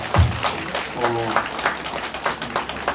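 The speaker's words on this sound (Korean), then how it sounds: "다시 한번 우리 신부님께 큰 사랑과 영광의 박수 부탁드립니다." Applause from a congregation at a Catholic retreat in Incheon Diocese honoring a priest, a steady broadband patter of hands with a voice speaking over it.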